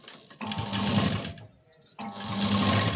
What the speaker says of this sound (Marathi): तर जो पॉइंट मी इथं घेतलाय पहा, त्याचवरती मी शिलाई देणार आहे.